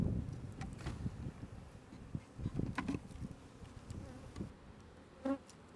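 Honeybees buzz around an open, full beehive during maintenance, a dense close drone of many insects with individual bees passing near, over light wind noise.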